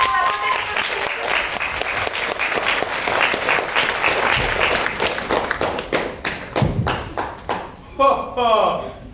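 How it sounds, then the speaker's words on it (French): Audience applause for a film project's screenwriter and costumes at a French screening event, a dense wash of clapping for several seconds that thins into scattered individual claps, with voices talking over the end. "On peut l'applaudir pour la beauté des costumes."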